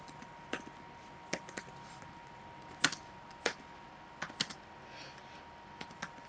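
Scattered keystrokes on a computer keyboard, quiet and close, come in short irregular bursts of single taps and quick pairs separated by pauses, over a faint steady background hum.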